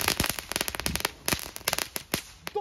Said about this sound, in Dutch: Die rook is altijd leuk van een knetterlintje.